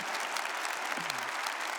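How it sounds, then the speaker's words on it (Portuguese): A church congregation applauds together during a Catholic Mass, a dense, steady wash of many hands clapping at moderate volume that carries through the whole stretch without pause, with a faint voice rising briefly beneath it. "Pode aplaudir então, começar aplauda"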